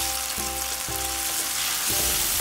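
Kimchi sautéing in a pan with garlic and onions gives a steady, close sizzle and crackle of frying, with brief stirring scrapes and no talking.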